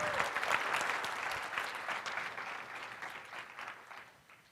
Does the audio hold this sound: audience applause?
yes